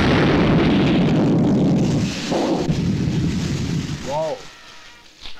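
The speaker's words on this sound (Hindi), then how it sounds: "मैं यहाँ से बटन ऐसे दबाऊं और ये ब्लास्ट हुआ" A movie bomb blast set off by remote button, a loud, sustained rumbling roar with crackling debris that slowly thins out, followed by a brief wavering tonal sound and a final thump.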